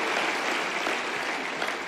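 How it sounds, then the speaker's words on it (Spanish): A congregation at a church conference applauds Jesus Christ. Thick, continuous clapping holds at an even level throughout. "Dele fuerte ese aplauso al Señor Jesucristo"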